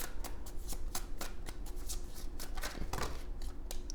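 Tarot cards being shuffled and drawn for a reading, a steady run of crisp riffling flutters and soft slaps close by, with no talking.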